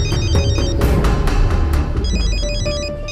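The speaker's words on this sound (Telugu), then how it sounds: "అర్జున్ మళ్ళీ ఫోన్" A telephone rings with an incoming call in a film scene, its repeated electronic tones pulsing loudly over a busy low background.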